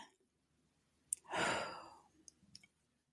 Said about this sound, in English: I'm taking a deep breath